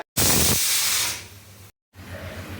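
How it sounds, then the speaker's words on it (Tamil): A pressure cooker with chickpeas inside lets off a loud rushing hiss of steam that fades after about a second, then the burst stops abruptly and a softer hiss with a low rumble follows. "சுண்டல் ஒரு விசில் வந்து ஆஃப் பண்ணியாச்சு."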